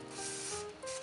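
A steady, hissing aerosol spray on a quadcopter's electrical connectors runs continuously for about a second, loud and close, with no talking.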